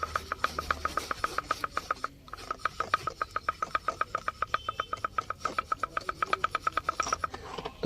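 Rapid rhythmic rasping clicks from the steering column gear of a Hyundai Verna Fluidic, the column motor gear ticking steadily at close range, pausing briefly near the start and then continuing without voices.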